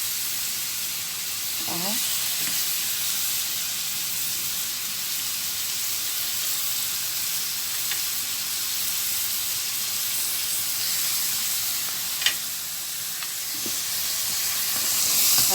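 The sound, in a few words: fatty meat sizzling as it is added to a pot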